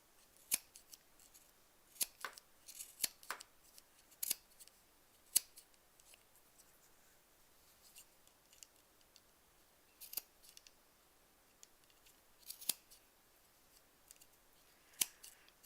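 Scissors trim fabric scraps in a crafting session, with sharp, separate snips spaced irregularly among quiet gaps, close and clear.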